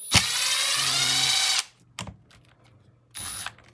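A power screwdriver removing a screw from the bottom skid plate of a Traxxas Sledge RC car, one long close whirring burst followed by two shorter bursts with brief ratcheting clicks between.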